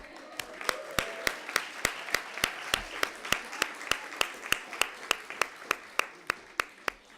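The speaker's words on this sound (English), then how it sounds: "Another round of applause." At a college EOPS graduation ceremony, the audience gives a round of applause heard as a steady, evenly spaced series of sharp claps, crisp and fairly close, continuing throughout with faint room murmur beneath.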